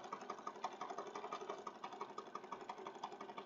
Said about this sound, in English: We're stitching now.